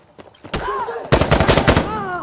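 Gunfire in the video game Insurgency: Sandstorm: a single sharp shot, then a dense rapid burst of automatic fire, loud and close, with voices talking over it.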